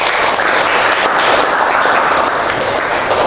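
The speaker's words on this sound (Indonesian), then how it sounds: "Tepuk tangan." An audience bursts into loud, dense, sustained applause, many hands clapping together in a steady roar that fills the room without pause.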